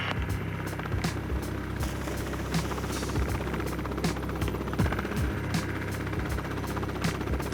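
Steady Coast Guard rescue helicopter rotor drone over water with rhythmic thumping, loud and continuous throughout, with wind and mechanical buzzing mixed in.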